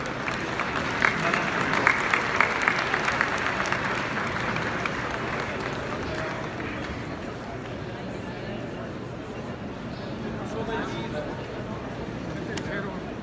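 Sustained audience applause at a professional panel on anti-money-laundering rules, loud and dense with crisp claps early on, then settling into a steady wash with murmured crowd chatter mixed in.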